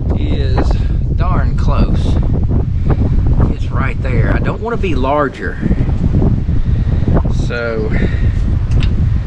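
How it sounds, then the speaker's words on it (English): Wind gusts buffet the microphone outdoors beside an off-grid tiny house and pole barn, a steady low roar running beneath someone talking throughout. "with this wind blowing"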